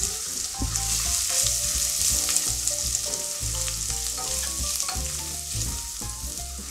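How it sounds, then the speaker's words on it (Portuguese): Garlic fries in a pan with bacon, giving a steady, close sizzle throughout. Light music plays in the background. "Fritar um pouco o alho."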